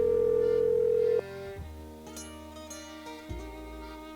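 A steady telephone dial tone rings out in the Nancy Drew game The Secret of Shadow Ranch as a call is placed, holding for about a second before giving way to quiet game music and faint clicks.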